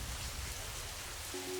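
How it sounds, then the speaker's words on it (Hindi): Heavy rain falls steadily, a dense continuous hiss of drops on surfaces with no breaks. "बहुत तेज बारिश हो रही है"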